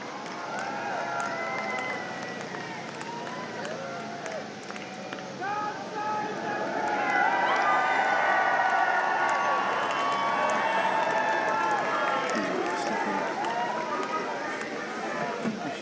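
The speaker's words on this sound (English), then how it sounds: "And a huge cheer as he arrives." A large street crowd in London cheers and shouts continuously as King Charles III and the Queen arrive from Balmoral escorted by police outriders, the roar swelling louder midway and holding, with hooves clopping beneath.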